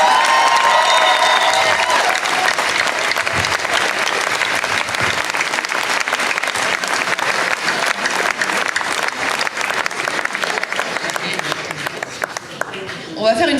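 Loud sustained applause from a gala audience after a speech, dense clapping with some cheering, continuing steadily before tapering off at the very end.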